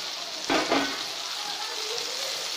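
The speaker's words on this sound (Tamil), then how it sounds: "ஒரு 10 மினிட் இப்படி ஃப்ரை ஆகட்டும்" Brinjal fries in oil in a covered pan with a steady, close sizzling hiss throughout, and two brief louder crackles near the start.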